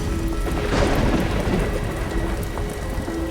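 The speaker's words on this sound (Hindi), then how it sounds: "उस रात बारिश हो रही थी।" Steady heavy rain pours down at night with rolling thunder rumbling beneath it, a dense continuous wash of downpour and low booms with no voices.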